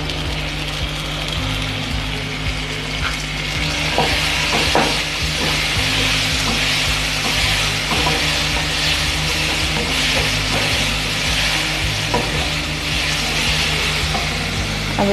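Garlic-ginger paste and green chili fry with browned onions for a masala dosa potato filling, producing a continuous close sizzle and crackle over a faint steady tonal hum.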